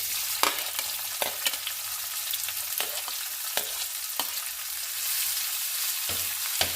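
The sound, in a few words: onion, dry chili and bay leaves frying in a pan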